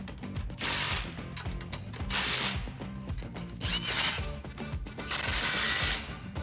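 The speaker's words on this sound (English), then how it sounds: "we're going to start tightening up our clamps" A ratchet wrench tightens exhaust clamps on a 2015-2017 Mustang GT Borla cat-back exhaust, rapid clicking bursts in four close, even strokes with brief pauses between.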